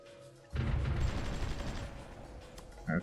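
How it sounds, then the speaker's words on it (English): Italian artillery fires in a strategy video game: a heavy, rumbling burst of booming gunfire that rolls on for a couple of seconds, then a short sharper crack at the end. "Oh, it's the Italian artillery, isn't it?"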